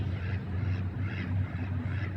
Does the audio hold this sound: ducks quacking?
yes